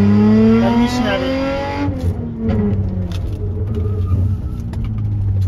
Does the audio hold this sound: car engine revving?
yes